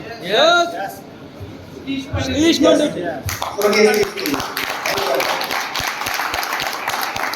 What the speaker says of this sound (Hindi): मैं नहीं बोल रहा उनके लिए तालियां बजाना, आपने खुद बजाई